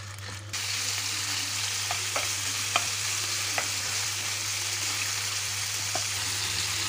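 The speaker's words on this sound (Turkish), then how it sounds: "Zeytinyağımızın içerisine arkadaşlar kıymamızı koyuyoruz. Kıymamızı kavuracağız arkadaşlar biraz." Minced meat fries in olive oil in a pan with a steady sizzle, and a spoon clicks and scrapes at intervals as it is stirred.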